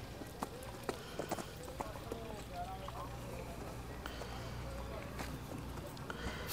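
Horse hooves clip-clop on the ground at a crowded horse fair in Muktsar while the horse is led around a round, faint and steady beneath a busy wash of chatter and background crowd noise.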